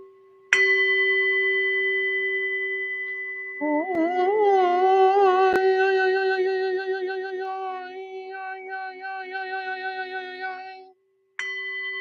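A hand bell is struck once with a clear ring, then struck again a few seconds later with a wobbling, shimmering tone that rings on and fades for several seconds before a final brief strike.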